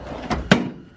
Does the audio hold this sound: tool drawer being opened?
yes